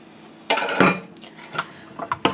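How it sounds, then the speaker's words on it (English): Close, brisk clinking of a whisk against a bowl mixing spices into flour, with two loud bursts early followed by lighter scattered taps and rattles. "Go ahead and whisk all those spices in with the flour."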